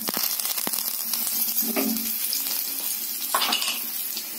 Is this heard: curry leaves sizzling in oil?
yes